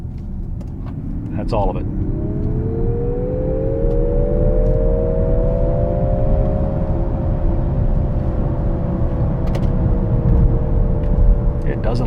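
Synthetic digital drive sound from a Nissan Ariya electric car rises and sustains as a smooth, steady whir during a test drive, heard from inside over road rumble, with someone speaking briefly near the end.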